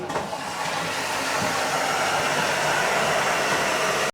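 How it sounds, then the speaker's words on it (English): An electric kettle, powered by a Bluetti Elite 300 battery, boils with a loud, constant rushing hiss and rumble, ending suddenly. "It's even letting me boil the kettle."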